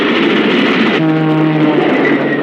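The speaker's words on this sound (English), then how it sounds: "Look out for the train, Inspector!" Cartoon train rushing past, a loud continuous roar that shifts into a sustained horn-like tonal blare midway, close and dominant with no talk over it.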